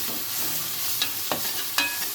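Onions fry in a pan, a steady, close sizzle with a few brief utensil clicks and scrapes over about two seconds.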